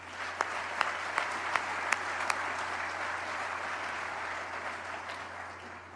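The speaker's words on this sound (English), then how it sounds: "How about a round of applause for what Las Vegas is able to do?" An audience applauds at the groundbreaking for the Athletics' Las Vegas ballpark, sustained outdoor clapping with several sharp, louder claps near the microphone early on and a low steady hum beneath.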